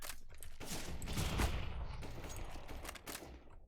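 A decoy grenade in Counter-Strike: Global Offensive gives off fake gunfire, a rapid spattering of shots heard at a distance, steady and fairly faint throughout.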